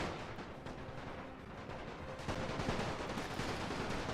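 Artillery firing in Napoleon: Total War with a Great War mod, a dense rumble of distant booms and gunfire that swells toward the end, faint and continuous.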